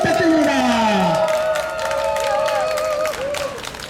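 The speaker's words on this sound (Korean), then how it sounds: "문혜숙 회장님을 비롯한 회원들 큰 박수 부탁드립니다" Crowd at a Busan press conference for Pedestrian Day applauding association members, with loud clapping mixed with cheers and whoops while a voice sings or calls out over it.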